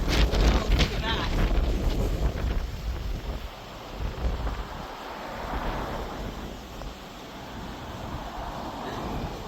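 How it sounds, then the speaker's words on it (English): Strong wind in Waikoloa, Hawaii buffets the microphone in heavy, rumbling gusts, loudest at the start and then surging and easing, with a roar that fills the whole clip and no clear talking. "Waikoloa has super windy conditions"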